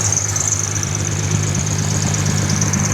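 A Vespa PX200 scooter engine runs steadily at about 1500 RPM, giving a continuous, even idle-like drone with a faint high whine, close and unchanging throughout, with no speech.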